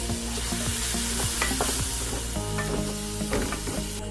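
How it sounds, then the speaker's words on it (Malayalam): Chicken gravy sizzling in a frying pan while a spatula stirs and scrapes in repeated strokes, close and loud with a continuous hiss throughout. "നല്ലതായിട്ട് മിക്സ് ചെയ്തിട്ടുണ്ട്."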